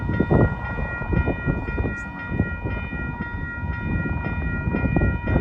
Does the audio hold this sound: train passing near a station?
yes